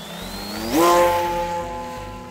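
A small RC model trainer plane's motor whines overhead, its pitch climbing sharply before settling into a steady, buzzing drone, with low rumbling noise underneath.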